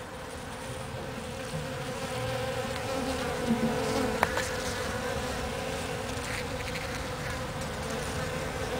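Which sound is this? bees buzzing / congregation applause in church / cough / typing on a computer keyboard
bees buzzing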